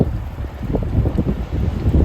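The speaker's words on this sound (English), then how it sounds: "it's a little bit windy, which you can probably hear" Wind buffets the microphone outdoors on a blustery day at the Anglesey coast, a continuous low rumbling roar with gusty swells throughout, loud and close, with no voices.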